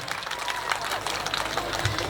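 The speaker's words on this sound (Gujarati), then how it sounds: "એમને પણ ખૂબ ખૂબ તાળીઓથી વધાવી લઈએ આપણે" An audience at a school prize-giving program applauds a prize winner, dense steady clapping from a crowd heard continuously at moderate level with some murmuring.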